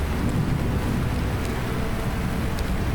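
Steady, dense rain pours without a break in the farming video game Lightyear Frontier, a loud, even hiss with a low rumbling undertone and faint scattered patters.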